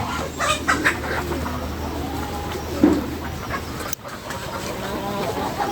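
Sonali hens cluck softly on a farm after being let out in the morning, with a few brief calls over steady background noise.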